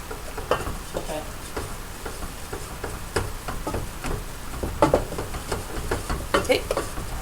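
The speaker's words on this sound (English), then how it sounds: "And stir it." Flour being stirred into gravy in a pan, with a spoon scraping and clinking against the pan in irregular taps over a soft sizzle, while people talk quietly.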